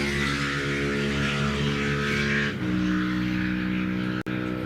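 Superbikes race at an Ulster Superbike Championship meeting run by the Enniskillen club, making a loud, continuous high-revving engine roar that shifts in pitch midway as machines pass, with a brief dropout near the end.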